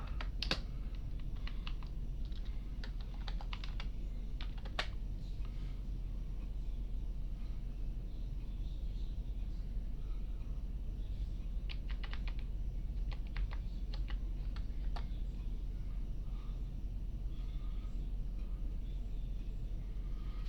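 Terminal commands typed on a computer keyboard, sparse bursts of keystrokes over a constant low background hum, with long quiet stretches between clusters and no speech.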